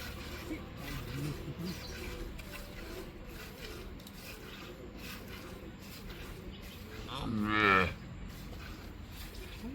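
A cow in a Gujarat village gives one loud, drawn-out moo near the end, after a stretch of quiet farmyard background with faint voices and rustling.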